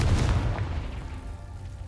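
A Confringo fire spell blast in Hogwarts Legacy lands as a loud, deep boom with a rumbling burst that fades steadily over about two seconds.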